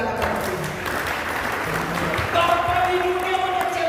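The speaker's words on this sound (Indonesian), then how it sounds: "Berikan tepuk tangan kepada Tuhan." A church congregation claps together in a sustained burst of applause at a worship service, many hands filling the room while a voice and musical tones carry beneath it.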